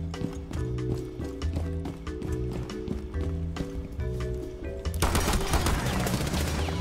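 A shotgun fires in Rainbow Six Siege: a fast, loud burst of shots with a harsher blast near the end, over steady game sounds.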